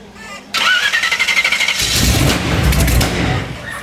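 A Mad Max style custom car without a fuel pump cranks with rapid rhythmic starter chugs and then catches into a loud, rough, roaring engine that revs up close by.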